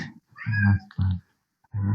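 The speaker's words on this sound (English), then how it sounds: "My cat's Yeah. meow in the background, so I'm gonna mute myself." A pet cat meows three times close by, with short breaks between the calls, heard over a quiet background.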